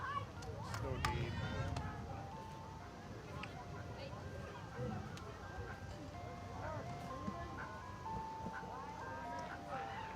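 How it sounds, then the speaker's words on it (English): Ice cream truck music plays faintly in the distance during a high school women's varsity soccer match, a tinkling melody running under steady crowd noise and commentators talking throughout. "I'm hearing the ice cream truck music."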